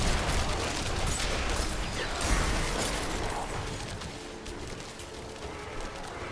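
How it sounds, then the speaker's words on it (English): Big area-of-effect explosions in Diablo IV gameplay, a dense, continuous wash of blasts, pops and crackling bursts that stays loud and busy throughout with no talk. "Ah, good old big AoE explosions."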